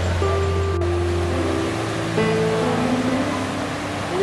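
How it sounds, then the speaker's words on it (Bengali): Water from a waterfall at a tourist spot in Daringbadi, Odisha, rushing as a loud, steady broadband roar, with faint tonal hum and a brief click over it. "এই দিক থেকে আসছে ওয়াটারফলসের জলটা, আস্তে আস্তে ডান দিকে চলে যাচ্ছে নিচের দিকে।"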